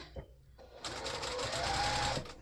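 Sewing machine stitching quilt strips onto a star block, a steady close whirring run that starts after a short pause and continues evenly, with a brief bit of quiet room sound before it.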